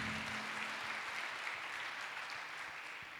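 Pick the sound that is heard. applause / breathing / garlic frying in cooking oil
applause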